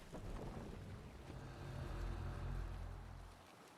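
A longship under sail on the open sea in Assassin's Creed Valhalla, with a steady wash of wind and water rumbling low and swelling before fading out.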